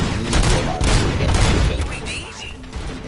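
Loud volleys of gunfire from the RoboCop video game crack and boom in dense, overlapping bursts, with speech mixed in beneath the shooting.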